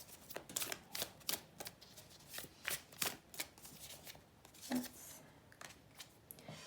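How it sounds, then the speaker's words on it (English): Tarot affirmation cards shuffled and pulled, a series of crisp, snappy riffles and flicks in an irregular rhythm, close and fairly loud, with no talking. "I'm going to pull just another card here."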